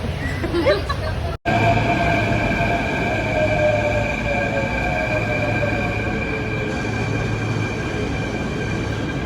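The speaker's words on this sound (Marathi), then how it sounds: "आता मेट्रो मधून घरी जातोय." A metro train rumbles along steadily with a constant droning hum and faint wheel squeal, interrupted once by a brief dropout near the start.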